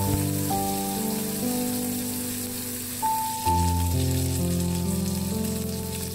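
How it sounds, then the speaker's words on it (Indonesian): Beef steak frying in a hot pan, a loud, continuous, close sizzle like steady rain, with faint background music underneath. "kita masukkan daging sapinya, kita goreng atau kita panggang ya teman-teman ya"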